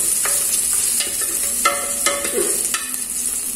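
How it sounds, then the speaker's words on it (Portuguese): Garlic fries in a home kitchen pan with a steady close sizzle, while a utensil stirs and taps it in a few light scrapes and clicks. "Aí eu vou fritar esse alho."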